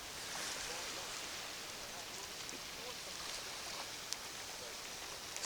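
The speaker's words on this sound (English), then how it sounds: "Still a nice calm sea" Calm sea at Whiting Bay on the Isle of Arran: a steady, soft hiss of gentle waves washing on the shore, continuous and fairly faint, with no clear individual breakers.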